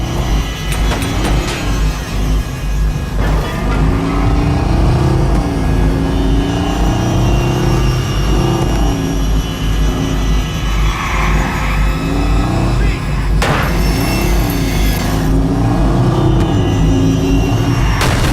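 A car engine revs and roars steadily during an escape in the video game Watch Dogs, loud and continuous for the whole stretch, with the rising and falling pitch of acceleration and no talking.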